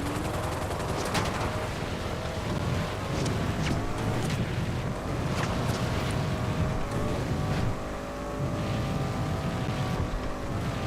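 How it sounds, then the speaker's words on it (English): A vehicle's exhaust roars in the video game GTA 5 Online, loud and continuous, with engine revs rising and shifting and sharp crackling pops throughout. "That is an awesome exhaust note."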